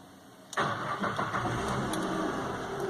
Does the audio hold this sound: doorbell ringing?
no